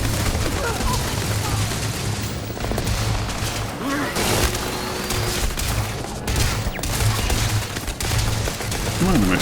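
Sustained gunfire in Starfield fills the whole stretch with dense rattling bursts and thumps over a low droning backdrop, while voices speak over the shooting.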